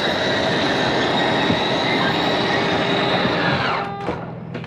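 An RV slide-out motor runs continuously with a loud, grinding mechanical drone that strains, then cuts off abruptly near the end, leaving a few faint clunks.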